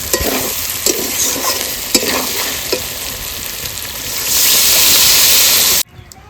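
Duck meat stir-fried in a pan, a loud close sizzle with rhythmic stirring scrapes that swells into a strong hiss before cutting off abruptly near the end.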